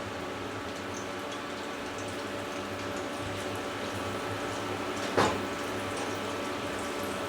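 Dough shapes drop into hot oil in a wok, giving a steady close hiss of frying with one brief louder splash and crackle partway through.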